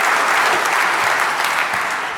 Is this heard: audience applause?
yes